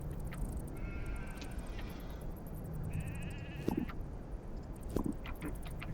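Goats in the video game CHKN let out a couple of wavering bleats, spaced a few seconds apart, over a steady background hum.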